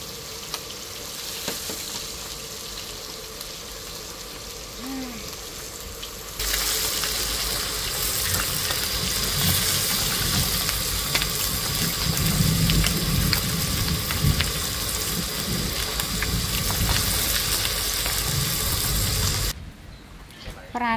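Fish frying in oil in a pan gives a steady, loud sizzle that continues without a break and grows stronger partway through, then drops off abruptly near the end.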